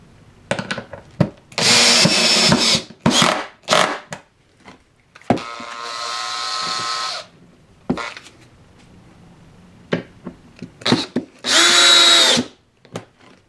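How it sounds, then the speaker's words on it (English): A power screwdriver drives screws through a board into a framework for a model railway extension. Several loud, close whirring bursts of a second or two each are separated by quieter handling clatter, with no talking. "screw the board onto the framework after, and then that way I won't have to worry about getting the screwdriver in underneath"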